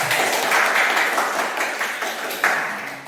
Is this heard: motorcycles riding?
no